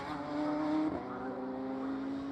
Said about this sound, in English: Jack Constable in the Hart GT entry goes through.